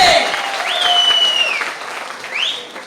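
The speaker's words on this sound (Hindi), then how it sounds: "तालियां आप जोरदार होनी चाहिए।" Loud applause from an audience at an agricultural seminar in Mumbai forms a broad, dense wash, with rising whistle-like tones sliding over it.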